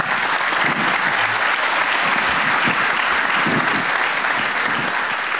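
At a conference plenary round table on payment solutions, the audience gives the panelists loud, dense, continuous applause that holds steady throughout without any speech over it.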